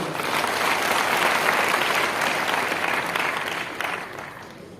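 Audience at a business presentation in India clapping loudly for themselves, a dense, full round of applause that holds strong and then tapers off toward the end.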